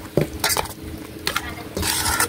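Macaroni fruit salad is stirred and mixed in a bowl, with several clinking scrapes of a utensil against the bowl and a longer scraping stretch at the end, close and fairly loud.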